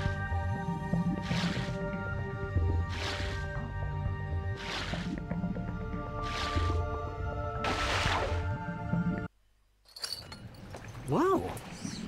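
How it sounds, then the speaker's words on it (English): Splashing and sloshing from swimming through murky sewer water in Ratchet & Clank 3, in five rhythmic strokes over steady game music, then a sudden drop to quieter ambience with a brief sweeping sound effect. "Swim in the nasty water."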